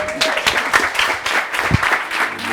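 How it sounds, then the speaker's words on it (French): Applause from an audience at a coding bootcamp demo day greets the next presenter, a short burst of scattered hand claps with some distinct individual strikes, fairly loud and close, lasting a few seconds. "On l'applaudit."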